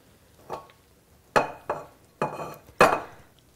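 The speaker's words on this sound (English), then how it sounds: "we'll get our serving bowl over here. And we'll scoop out the rice." Rice scooped into a serving bowl, heard as five separate clinks and scrapes of a utensil against the dish, fairly close and spaced irregularly, with no talk.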